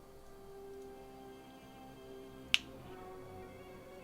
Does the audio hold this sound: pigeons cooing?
no